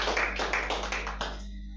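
A church congregation claps hard in quick rhythmic unison, a close burst of about five or six beats that fades out at the end.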